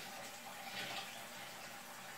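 Hot water runs steadily from a tap in a continuous soft hiss, quiet and close, with no voices.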